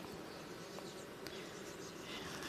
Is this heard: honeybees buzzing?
yes